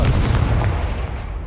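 Confringo explosive spell blast in the Hogwarts Legacy video game, a single loud, booming impact with dense low-end rumble that decays quickly within a second and a half.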